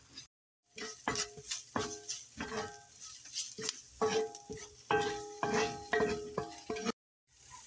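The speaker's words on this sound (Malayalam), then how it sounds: "ഇനി ഇതെല്ലാം ഒന്ന് വഴറ്റിയെടുക്കാം" Chicken cutlet mixture with pepper powder sautéed in a pan, a repeated rhythm of spatula strokes scraping and knocking against the pan over a light sizzle, close and clear, with a brief silent gap at the start and end.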